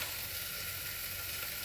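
Potato and gundruk made from mustard greens fry in a pan with tomato, cumin and coriander powder, giving a steady, dense sizzle that holds evenly throughout, close up with no voices.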